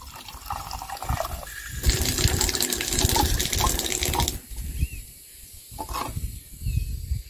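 Water gushes from an old tap at an old family country house, a steady splashing stream that rises loudly, then eases to softer trickles and splashes toward the end, with no talking.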